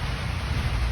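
Rain falls outside a village home at dusk, a steady, even wash of soft hiss with no breaks or distinct drops.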